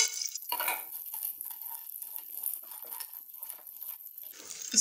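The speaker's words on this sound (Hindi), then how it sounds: "अब हम इसमें ऐड करेंगे गोंद यानी चीड़। इसको अच्छे से फ्राई करेंगे।" Edible gum (gond) frying in a pan of hot fat while making gond ladoo: a soft, steady sizzle with occasional stirring and utensil scrapes, close and fairly quiet, with no talking.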